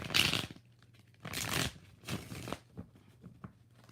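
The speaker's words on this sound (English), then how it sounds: "5 shuffles." A deck of tarot cards is shuffled close up in several quick riffling bursts, followed by softer taps and card handling in a quiet room.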